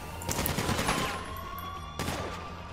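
A rapid burst of gunfire in GTA 5 Online rattles out, pauses briefly, then a second burst follows, loud and sharp with a ringing tail.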